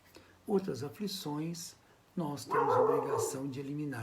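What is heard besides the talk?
dog barking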